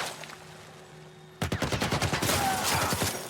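Gunfire in The Last of Us Part I, a crouched player in Pittsburgh on Grounded difficulty with a shotgun out; after a quiet stretch, a burst of rapid, loud, repeated shots erupts and keeps going to the end.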